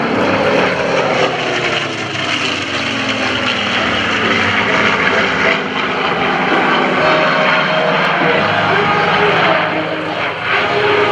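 Spitfire Mark 18 and P-51 Mustang, 24 cylinders and more than 3,000 horsepower between them, pass at an airshow with a loud, sustained piston-engine roar that swells and holds across the whole stretch.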